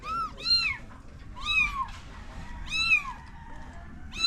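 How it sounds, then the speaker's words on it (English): A cat meows in three or four separate drawn-out calls about a second apart, clear and close over a quiet background with faint low rumble. "mother cat is right over there"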